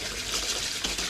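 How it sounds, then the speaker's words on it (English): Warm water running and pouring into a bowl used for washing baseball and golf caps, a steady close splashing gush with no talk. "Put some warm water in."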